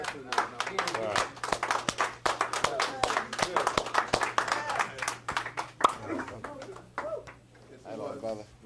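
Audience at a round-table talk breaking into applause, a scattered run of sharp claps of moderate loudness mixed with voices talking, thinning out toward the end.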